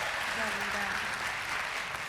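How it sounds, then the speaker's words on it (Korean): A studio audience at a performance show gives a short burst of dense applause for a vocal trio, steady and moderately loud, with a voice faintly underneath. "박수 한 번 주셔야죠"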